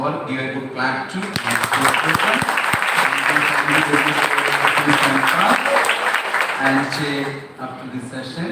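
A seminar audience applauds at the close of an international seminar, dense sustained clapping from a large room that swells loud and holds, with music or voices faintly underneath at the start and end.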